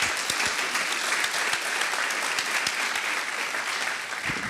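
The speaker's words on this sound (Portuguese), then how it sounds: "Aplauda o nome do Senhor Jesus." A church congregation at a midweek service claps in a dense, even burst of applause lasting several seconds, fairly loud and continuous, easing slightly at the end, with no one speaking.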